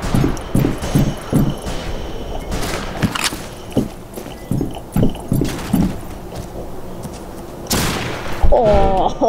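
A sniper rifle in the cowboy shooter Fistful of Frags fires with sharp, repeated reports and booms, mixed with footsteps and handling clatter, while someone talks over much of it.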